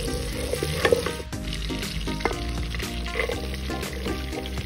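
Butter sizzles steadily in a hot frying pan for adobong atay ng manok, a constant close crackle with occasional soft stirring scrapes and light clinks.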